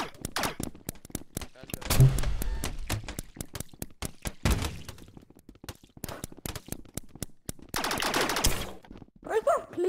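Bursts of video game gunfire in Rec Room crack out in loud rapid volleys, clustered in several groups with short gaps between, while a voice talks over parts of it.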